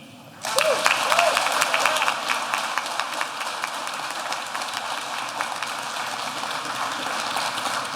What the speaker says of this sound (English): Another round of applause for this year's valedictorian, Marcus R. Tenesaca.